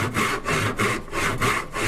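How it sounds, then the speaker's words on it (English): A hand saw cuts wood held in a miter box, with four even back-and-forth rasping strokes, close and loud. "Place your saw where you want to cut and begin to cut."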